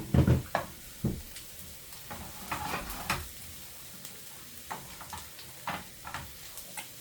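Three medium onions frying in a pan for a Philly cheese steak, a quiet sizzle broken by scattered clicks and scraping stirs that are louder at first and then settle.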